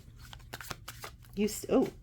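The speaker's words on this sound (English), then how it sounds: "I was shuffling because I was like, I felt led to pull one more." A deck of tarot cards being shuffled in soft riffling bursts, with a person talking over and between the shuffles.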